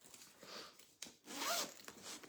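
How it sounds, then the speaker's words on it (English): A zipper on a handmade bag is pulled shut in a close, quiet rasping stroke, with a shorter zip sound earlier and light handling rustle around it. "you see the zip closes, the top zip closes at the same side as the zip pocket"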